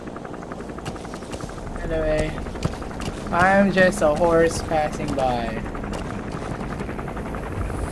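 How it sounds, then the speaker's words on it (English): Enemy gunship helicopter in the video game Metal Gear Solid 5, its steady rapid rotor thumping running throughout at moderate distance beneath someone talking. "That's an enemy gunship."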